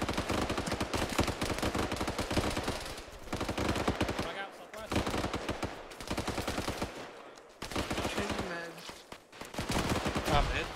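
Heavy gunfire rattles through a military video game, dense machine-gun bursts firing almost continuously with a few short pauses, loud and close, while voices talk over the shooting.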